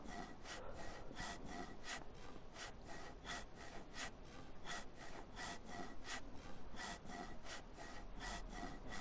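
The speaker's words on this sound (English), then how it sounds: "I'm just going to cut the rest of these planks off." Rhythmic back-and-forth sawing through wooden planks in a building video game, steady strokes repeating evenly and fairly close, with no talking over it.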